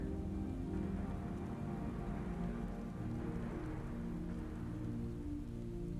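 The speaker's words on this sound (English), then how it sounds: "It wasn't raining before." Rain falls steadily in the Final Fantasy XIV Stormblood game world, a soft, even wash of patter with low background rumble and no voices, holding at a quiet level for six seconds.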